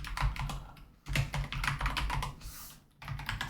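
Quick bursts of typing on a computer keyboard, close-up clacking keystrokes in short runs broken by brief pauses, with no voices.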